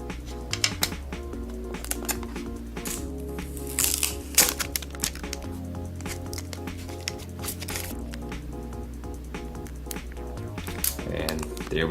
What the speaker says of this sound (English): We can peel this off here.